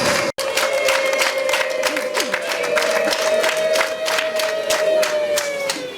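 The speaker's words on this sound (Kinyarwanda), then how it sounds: "impundu zigire gatatu impundu zigire gatatu" Wedding guests ululating and cheering at a Rwandan wedding ceremony, a long sustained high trilling chorus over rhythmic clapping and crowd noise, loud and continuous.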